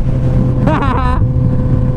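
A Honda CB 1000R motorcycle's exhaust rumbles loudly and steadily up close, with a brief voice-like sound over it midway.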